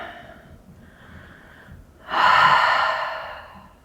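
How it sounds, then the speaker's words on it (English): A person breathes deeply during an exercise routine: two soft, slow breaths come first, then a stronger, louder inhale-exhale that gradually fades, close and clear with no talking. "Take a few breaths here."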